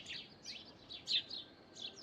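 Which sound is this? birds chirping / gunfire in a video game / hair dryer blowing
birds chirping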